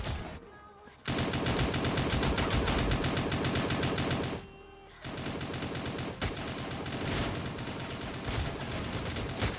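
Rapid automatic gunfire in Fortnite in long sustained bursts with a short pause between them, loud and close, with no talking.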